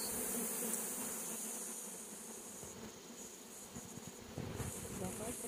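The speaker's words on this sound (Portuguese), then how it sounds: "Muita abelha." Africanized honey bees swarm around an open hive in Bahia, Brazil, making a dense, continuous buzz close to the microphone, with brief bits of talk underneath.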